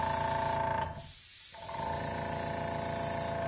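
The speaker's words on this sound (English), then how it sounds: "My air compressor is not listening." An air compressor runs with a loud, continuous hiss and hum close by, briefly dipping near the start before resuming steadily with no voices.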